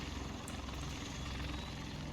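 V-22 Osprey tiltrotor in the War Tycoon video game, a loud continuous rotor and engine roar droning steadily and close throughout, with no voices.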